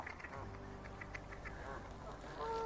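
Ducks quacking in short repeated bursts along a canal towpath, moderately distant over a steady low outdoor background hum, with a brief tonal whistle near the end.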